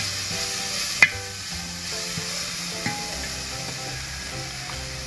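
Chopped onions sizzle and crackle steadily in hot oil for a country chicken curry, with a few sharp clinks of a spoon stirring the pan, close and continuous with no talk.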